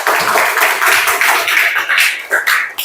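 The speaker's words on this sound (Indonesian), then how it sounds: "Oke, tepuk tangan semuanya." A fifth-grade class at an elementary school claps hands together, loud and close, in uneven bursts with short gaps and a few sharper slaps near the end.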